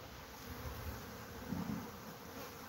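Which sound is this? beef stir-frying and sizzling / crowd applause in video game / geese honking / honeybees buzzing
honeybees buzzing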